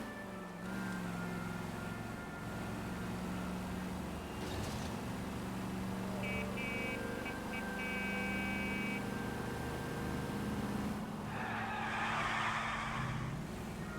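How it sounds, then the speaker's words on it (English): Car in L.A. Noire drifting, with a steady engine drone and tire skid noise throughout, a brief high squeal midway and a louder burst of scraping near the end, no talk. "This car drifts horribly."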